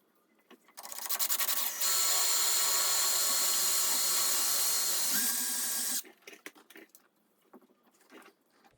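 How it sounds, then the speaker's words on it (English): A power drill drills a hole in a 1969 Glasspar Tacoma 14 boat hull: a steady, loud whir for about four seconds, its pitch shifting partway through, then cuts off, leaving faint handling clicks. "So I'll drill a hole."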